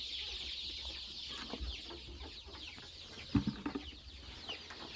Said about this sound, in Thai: เพราะลูกไก่หิวข้าวละ